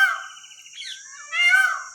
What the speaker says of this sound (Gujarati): મોર બોલી રહ્યા છે, વરસાદનું વાતાવરણ છે